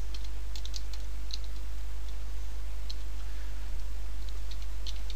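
Keys on a computer keyboard tapped in a short, irregular burst of light clicks, faint beneath a steady low electrical hum and background hiss.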